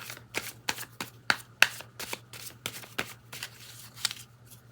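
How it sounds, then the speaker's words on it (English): Rapid bursts of a tarot card deck riffling and snapping together, a dozen crisp flutters in quick succession, close and clear over a low steady hum. "Let's cut the deck and shuffle."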